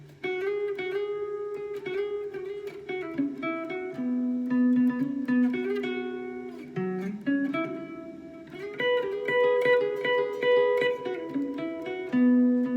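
A guitar on acoustic strings plays a song's solo, a quick flowing line of picked notes, bends and slides, steady and close with no voices.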